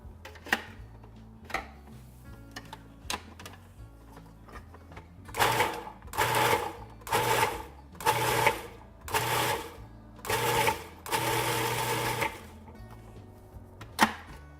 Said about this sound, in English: I want to crush the corn in the same mixer